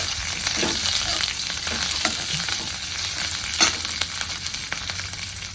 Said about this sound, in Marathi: मिरची आपल्याला ह्यात टाकून घ्यायची त्या लसणामध्ये ती पण आपल्याला तेलात छान असं मिरची भाजी जाई जाईपर्यंत भाजायचं